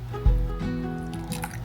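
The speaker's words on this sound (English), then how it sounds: "So first I add in my water" Water poured into a mixing container for eco-resin, a short splashy gush starting abruptly and trailing into dribbling.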